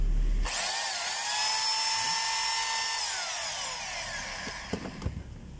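A Bosch-style SHR263 rotary hammer runs in a test after repair. Its steady high-pitched whine holds loud for about three seconds and then slowly winds down, followed by a few brief clicks and knocks.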